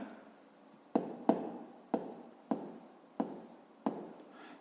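Pen writing numbers on paper for a fifth-grade math division exercise, six distinct close scratchy strokes spaced about every half second, quiet, with no talking.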